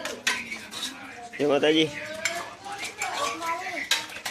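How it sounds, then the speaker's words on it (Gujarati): Two girls scrubbing metal dishes and pots, with clinking and scraping of utensils close by and a brief burst of clattering; voices talk and a short greeting is spoken over the washing. "રિંકુ ને સાક્ષી બે વાસણ ઘસે છે અહીંયા."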